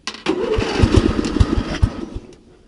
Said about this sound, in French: c'est pas facile de démarrer en même temps, baisser un peu l'accélérateur